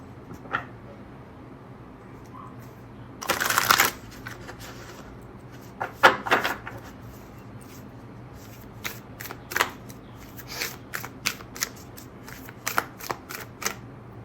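A deck of cards is shuffled and riffled in several separate quick bursts, close and crisp, with short quiet gaps and light handling clicks between them.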